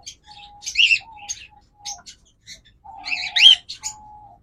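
A pair of cockatiels kept for sale chirp in two short bursts, with bright, scratchy high calls and steady whistled notes between them, near and clear with no one talking.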